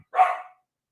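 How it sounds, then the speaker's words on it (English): A single loud, close dog bark, short and sharp, followed by silence. "Sorry, my dog here."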